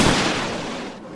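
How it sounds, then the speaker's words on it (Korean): A K9 self-propelled howitzer fires at a coastal artillery position, producing one broad, loud blast that decays into a rumbling roar. "K9이 불을 뿜으며 도발 원점과 지원 세력을 타격했지만"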